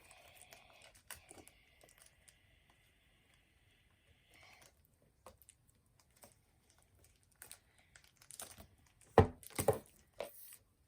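Packaging on a board game box for The Hive is torn open by hand: a quiet stretch with a faint steady tone, then a few sharp, close crinkling and ripping bursts near the end.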